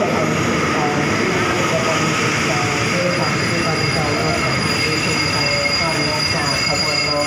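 Express train 111 arrives fast at Chum Saeng station with a loud, close roar of rolling wheels and metallic screeching and squealing, while a station announcement plays over it.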